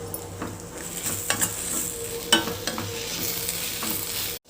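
Eggplant fry being stirred in a pan with coconut chilli powder, a steady sizzle under repeated scraping and clinking strokes of a spoon, close and alone.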